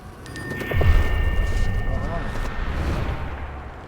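Gunfire in the game Cartel Tycoon, a burst of booming shots and rumbling impacts under a voice, loud and close, fading into a lingering rumble.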